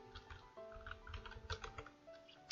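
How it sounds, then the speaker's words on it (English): Quick typing on a computer keyboard, a rapid patter of light key clicks close by and faint, with no talking. "Now you press tab and erase it and type in the brand name you have"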